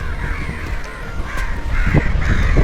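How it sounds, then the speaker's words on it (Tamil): Crows caw near the seashore in Lakshadweep, several harsh calls rising over a rough, steady outdoor background, with louder, closer caws toward the end. "காக்காலாம் இருக்குண்ணா."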